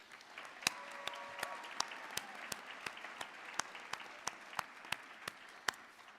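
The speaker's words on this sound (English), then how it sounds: "Let's have a round of applause for all of our honors students." A steady round of applause from an audience at an honors students' ceremony, many hands clapping continuously with sharper individual claps standing out, moderately loud with no talking.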